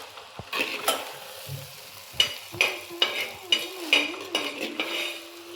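Biryani ingredients being sautéed in a pan, a low sizzle under rhythmic scraping and clinking strokes of a spatula, about one stir per half second, close by.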